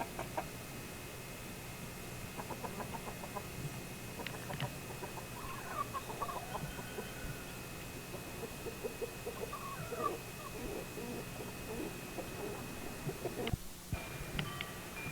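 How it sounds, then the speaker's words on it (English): Rhode Island Red rooster and a flock of chickens on a farm, with scattered clucks and short calls over steady outdoor background noise at moderate distance, no talking. "I think he's a Rhode Island Red rooster. He cock-a-doodle-doos the loudest."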